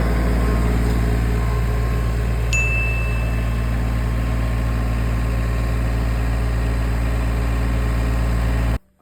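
Tractor engine runs at a steady idle with a deep, even drone and rattling vibration, close and loud, before cutting off abruptly at the end.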